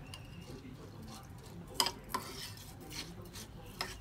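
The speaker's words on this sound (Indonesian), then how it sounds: "Lalu kita aduk seperti ini supaya kunyit santannya merata." Instant turmeric is stirred into coconut milk with a small spoon for yellow rice, making quiet swirling scrapes punctuated by a few soft clinks against the container.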